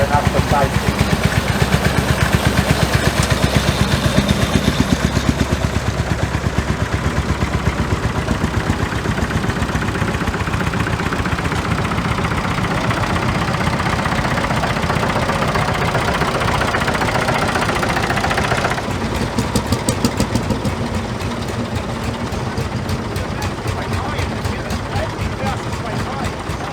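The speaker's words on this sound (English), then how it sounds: "stand back away from the tractors and do not cross between the tractors or in front" Vintage tractors run at an outdoor field day in Western Australia, a steady loud engine drone with knocking, idling chug that continues throughout, with people talking over it.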